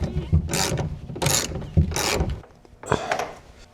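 Ratchet strap being cranked to tighten a homemade roll-up truck bed cover, with a few separate bursts of rapid clicking and mechanical rasping close by, then a short pause and one final burst.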